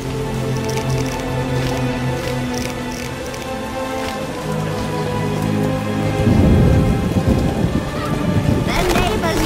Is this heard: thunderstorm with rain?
yes